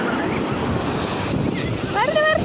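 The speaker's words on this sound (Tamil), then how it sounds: "அலைகள் வருது." Sea waves wash ashore at Kovalam beach, making a steady loud roar of surf mixed with wind buffeting the microphone, while a voice speaks faintly near the end.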